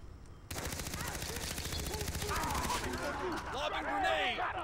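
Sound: gunfire from a big gun in the video game Far Cry 3

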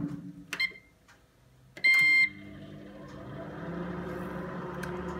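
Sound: microwave oven running and beeping

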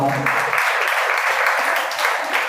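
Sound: audience applause for thirteen students

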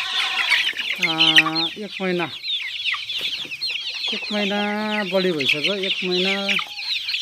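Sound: local chickens and chicks clucking

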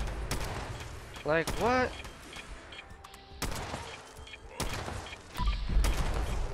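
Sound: Quad E pipe revolver gunshots in video game Fallout 76

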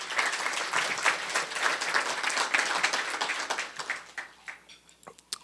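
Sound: audience applause at a chamber of commerce luncheon

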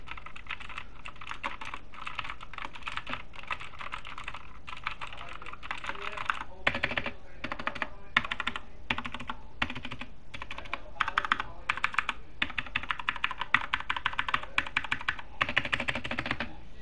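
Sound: computer keyboard typing

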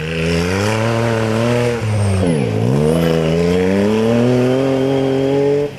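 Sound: rally buggy built for Dakar 2022 racing

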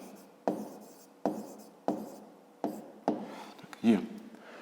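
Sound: writing the answer to a math problem

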